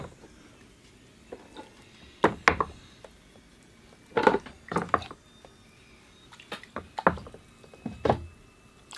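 Small irregular knocks, splashes and wet clunks of bonsai temple model pieces dropped into a water-filled bucket, close by, in scattered bursts with quiet gaps between.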